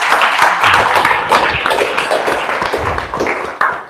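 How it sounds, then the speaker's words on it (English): Applause from a group at an agroforestry training session, a dense patter of hand claps that stays steady and fairly loud across the whole stretch with no voices over it. "Let's give them a round of applause"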